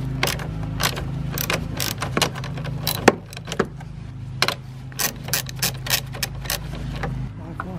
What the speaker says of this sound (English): Just got to remove a little 10-millimeter stud they have on here and then a 13-millimeter bolt.